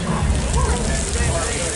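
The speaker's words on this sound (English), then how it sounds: "let's start with some rain." Artificial rain effect on a Hollywood film set: dense, steady hiss and patter of water drops falling onto surfaces, close and continuous for the short stretch.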